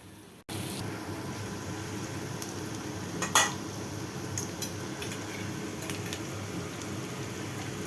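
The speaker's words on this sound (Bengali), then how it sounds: "এই বাটারের ভিতরে এগুলিকে ভালো করে নাড়াচাড়া করে কিন্তু এগুলি লাল লাল করে ভেজে নিতে হবে।" Onion, green chili and ginger fry in butter with a steady close hiss, while a spoon scrapes and clinks against the pan now and then.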